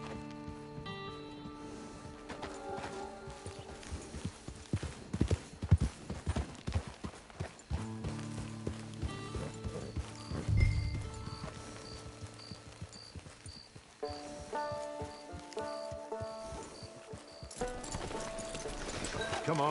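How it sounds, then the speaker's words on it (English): Horse hooves clop and gallop in the video game Red Dead Online, a rhythmic stream of hoofbeats mixed with game music and ambient effects, with a voice speaking over it. "Get your horse."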